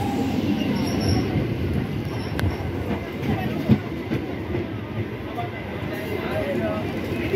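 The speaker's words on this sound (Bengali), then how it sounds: "দেখুন ট্রেনটা আস্তে আস্তে এগিয়ে আসছে সামনে।" A train bound for Namkhana rolls past nearby in a loud, continuous rumble of clattering wheels, with a brief metallic squeal partway through and faint voices beneath the roar.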